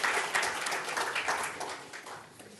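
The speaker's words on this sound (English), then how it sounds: "Can we have another round of applause for this wonderful" An audience at an economics panel discussion on India gives the panelists a moderate round of applause that starts strong and gradually thins out, heard at a distance with no talk over it.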